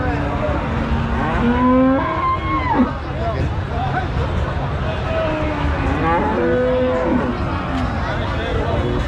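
Cattle moo several times at a livestock market, long low calls over a busy background of crowd chatter and passing vehicle noise.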